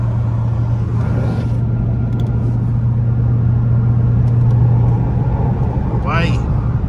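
A Ford Crown Victoria drives along with a loud, steady low rumble and road noise throughout, and a voice speaking over it.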